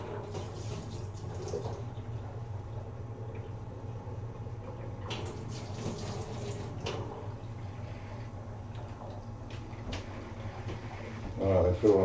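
Water runs steadily in, filling, as a continuous even rush with a low gentle hum underneath that holds at the same level throughout.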